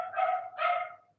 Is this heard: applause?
no